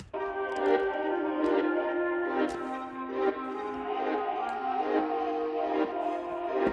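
Chopped music sample pitched down an octave, a dense, dark harmonic texture with a steady sustained chord and soft percussive ticks, playing alone at moderate level.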